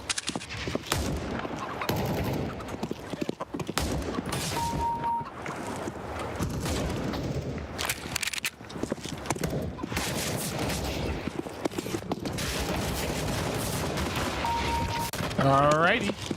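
Rapid bursts of gunfire ring out in the video game CS:GO, shot after shot in dense volleys, with a voice talking over them.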